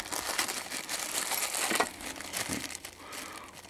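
Plastic bag crinkling close up while a rotary tool kit is unboxed, a dense run of sharp rustles and crackles over several seconds, loud near the start and softening toward the end.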